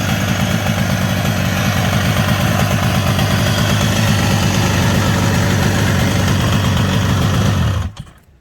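An original Bridgestone 350 GTR motorcycle engine idles steadily and loudly up close with a low, throbbing rumble, then cuts off abruptly near the end.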